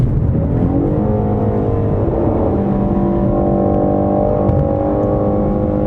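A 2017 Ford Shelby Mustang GT350R pulls hard in third gear after an upshift, its engine note climbing steadily and loudly under a sustained roar.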